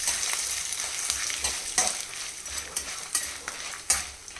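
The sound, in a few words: chillies frying in oil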